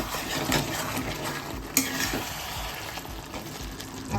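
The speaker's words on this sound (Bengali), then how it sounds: "মশলাটাকে কষিয়ে নিই।" Spice masala of black pepper, nutmeg and mace is fried and stirred in a pan, a loud close sizzle with repeated spatula scrapes and a sharp metallic clink about halfway through, no talking.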